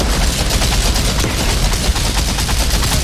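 Loud, dense gunfire in the Outriders video game, a continuous rattle of rapid shots blending into one another with heavy booming low end, close and unbroken for several seconds.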